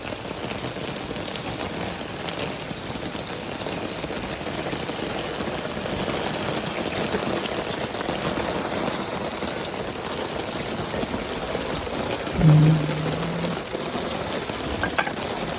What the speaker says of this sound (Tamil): ஐயோ சரியான மழையாக இருக்கு.